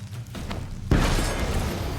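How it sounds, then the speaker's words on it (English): A bomb in The Witcher 3 goes off with a sudden, loud booming blast that cuts in after a short quiet stretch and then rolls on as a broad, rumbling roar. "Throw a bomb."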